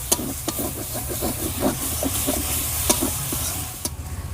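Spices with turmeric sizzle and hiss steadily after a splash of water is added to the pan, with scraping stir strokes and a few sharp clicks throughout, close and fairly loud.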